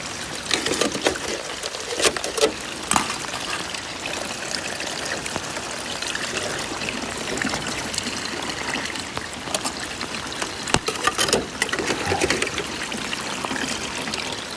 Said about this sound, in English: we pull this junk out, which will allow the water to flow out